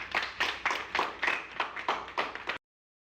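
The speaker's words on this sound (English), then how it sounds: "Give yourselves a round of applause." A small group of school students clapping for themselves, a handful of close, uneven bursts of hand claps in quick rhythmic clusters, ending abruptly in silence.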